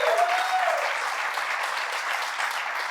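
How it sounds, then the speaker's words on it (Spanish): A church congregation applauds in a steady, dense wash of clapping that fills the room and holds evenly throughout, with a brief whistle cutting through near the start. "Démosle un fuerte aplauso a Dios"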